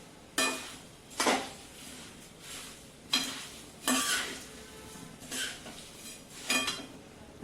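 Puffed rice (kurmura) being stirred and roasted in a pan for chivda, with about seven distinct scraping, rustling strokes at a steady rhythm, close and moderately loud, over a faint crackle and no speech.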